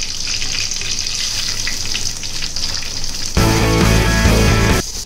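Garlic and shark liver hit hot oil in a clay pot, a soft sizzle swelling into a loud, dense crackling fry for a second or two before easing back.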